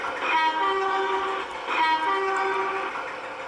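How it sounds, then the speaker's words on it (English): A British electric locomotive horn in the Trainz railway simulator sounds two sustained, bright, multi-tone blasts, each lasting about a second, over a faint rumbling background. "Here's the horn."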